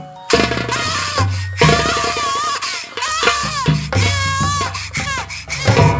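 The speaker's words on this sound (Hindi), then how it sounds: "ये बच्चे के रोने की आवाज यही कहीं आ रही है।" A baby cries in repeated wailing bursts, close and loud, layered over music with a steady bass pulse and a bright tinkling melody throughout.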